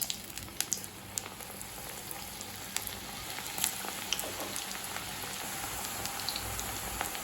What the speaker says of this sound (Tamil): இப்போ நம்ம காலிஃப்ளவர் போட்டு பொரிக்க ஆரம்பிச்சிடலாம்.